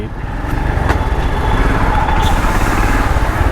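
A Royal Enfield Scram 440 motorcycle engine runs steadily and close by, a constant low rumble that holds at one level through the whole stretch.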